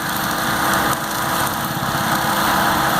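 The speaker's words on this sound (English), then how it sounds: "it's expensive to run one of these mowers" A diesel mower engine runs loud and steady in a field, with a continuous buzzing drone and no pauses.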